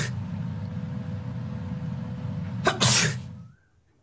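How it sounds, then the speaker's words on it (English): A single loud sneeze bursts out near the end over a steady low engine-like hum, which then fades into near silence, recorded in a droplet experiment. "First, sneezing."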